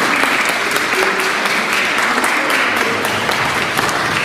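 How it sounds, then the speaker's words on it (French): Churchgoers at a Mass applaud an altar server, steady loud clapping from a crowd filling the whole stretch without a break. "Applaudissez Victoria."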